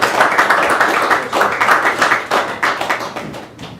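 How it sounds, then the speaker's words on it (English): Audience applause at an Ontario mental health funding announcement, a crowd clapping steadily and fairly close, with rhythmic swells that taper off toward the end. "I think it's worth another round of applause for 57 new units of housing."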